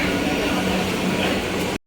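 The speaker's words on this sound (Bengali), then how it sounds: "এদিকে একটা লোকাল ট্রেন ঢুকছে" A local train pulls into a platform at Sealdah station, its steady, loud rumble and rolling rail noise filling the whole stretch before cutting off abruptly, with faint station voices beneath.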